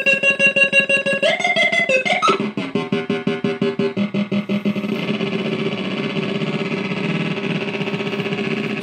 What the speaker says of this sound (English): So this is like heavy drone and also high stuff you can make.